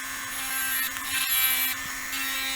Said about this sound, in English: Switch to a small diamond bit and carefully drill into the rim of the walnut.